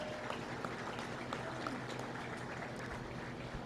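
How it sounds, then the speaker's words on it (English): Sustained applause from a crowd of spectators at a county fair Holstein dairy cattle show, a steady dense clatter of clapping filling the whole stretch without pause. "Let's give a big round of applause"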